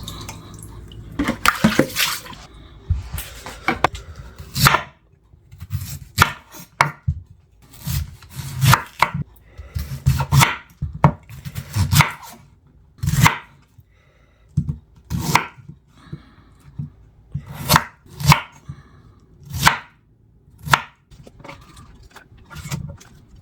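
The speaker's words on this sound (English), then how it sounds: "So in prepping my purple cabbage, I love to take off the top layers just to prevent any contamination." Knife chopping purple cabbage on a cutting board for juice, a long run of sharp irregular cuts and thuds, close and clear with no talking.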